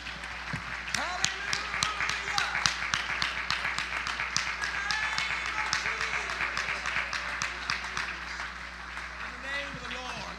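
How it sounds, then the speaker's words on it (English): A church congregation claps hands in praise, dense rhythmic clapping continuing steadily throughout with voices calling out among it. "Clap your hands to the Lord and magnify him."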